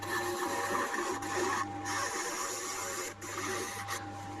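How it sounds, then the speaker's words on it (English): Small wood lathe turning a spruce snowman nose, a steady mechanical hum with a constant motor whine and light scraping texture, continuous throughout with brief dips, no voices. "I've swapped onto my little small lathe just to do the nose"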